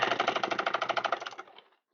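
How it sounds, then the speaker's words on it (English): Regular home sewing machine stitching through bag fabric, a fast even run of rapid needle clatter for about a second and a half before slowing and stopping. "I'm on a regular home sewing machine and I'm not having any problems."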